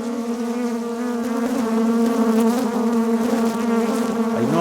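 Crowding a microphone during hive work, a mass of honeybees makes a loud, close, continuous buzzing drone that swells slightly, with no voices.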